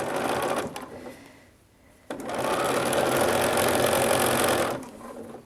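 A sewing machine zigzag-stitches a lace hem on lingerie, running in a loud, close, steady mechanical whir, pausing briefly, then resuming for a longer run before slowing.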